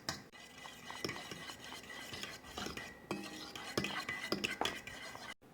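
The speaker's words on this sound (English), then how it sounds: "I'm just going to whisk this with a fork" A fork whisks brownie batter in a bowl, producing quick, irregular clinks and taps of metal against the dish over a soft swishing stir, close by and fairly quiet, with no speech.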